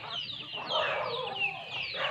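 Baby chicks, a fresh hatch of fourteen, cheeping in a rapid cluster of high, sweeping peeps that overlap continuously and sound close by.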